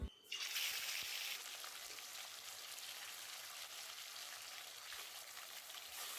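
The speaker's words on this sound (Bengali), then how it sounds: "প্রথমে আমি তেলটা গরম করে মাছটা আস্তে আস্তে ভেজে নেবো এক এক করে" Large pieces of katla fish fry in hot oil for a village-style kalia, giving a continuous, even sizzling hiss that starts with a short burst and then settles into a steady crackle.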